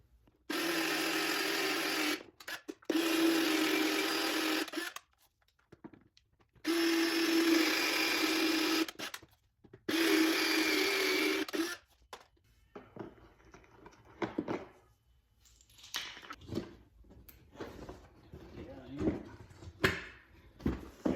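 A power drill with a 1/4 inch bit whirs in several steady bursts of a few seconds each, close by, during a BMW E90/E92 door handle replacement, followed by clattering, handling noises and scattered knocks.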